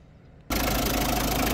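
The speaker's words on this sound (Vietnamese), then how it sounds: "đây là cái tiếng động cơ của chiếc xe này. Động cơ máy chạy rất là êm nhá." Diesel engine of a 2010 Hyundai Starex nine-seat manual van idling, coming in abruptly after a near-silent start and then holding a loud, steady, even rumble with a slight rattle.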